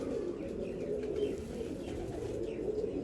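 Soft cooing of a female racing pigeon murmurs continuously at close range, with a few faint chirps over a low, steady background.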